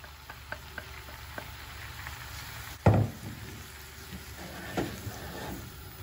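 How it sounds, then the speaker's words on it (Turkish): Flour being toasted and stirred in hot butter, a soft low sizzle with occasional scraping strokes and a couple of louder knocks of the spoon against the pan. "Artık iyice un kavruluncaya kadar, unun rengi değişinceye kadar bu şekilde karıştıra karıştıra kavuracağım."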